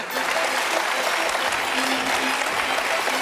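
Studio audience applause on a French television talk show, a steady dense wash of clapping filling the room evenly throughout, with no voices over it.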